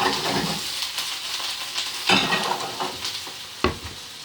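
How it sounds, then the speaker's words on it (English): Onions fry in a small amount of oil in a pan for a vegetable stir fry. A steady loud sizzle carries on throughout, with occasional scraping and stirring clatters close up. "Put my onions in there to fry away."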